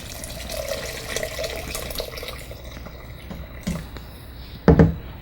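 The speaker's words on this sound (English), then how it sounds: "Cover those with water." Water runs and splashes into a cooking pot for chicken and dumplings for a few seconds, followed by a couple of louder clunks near the end.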